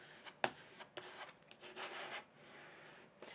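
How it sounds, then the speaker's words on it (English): Glitter vinyl is scraped down onto a surface with a tool, giving a few faint, close rubbing strokes with one sharp tap near the start and no talking. "I'm just going to scrape this one down a little bit"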